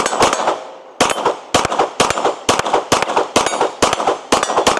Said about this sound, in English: let's go ahead and take a few shots with this and see how well they run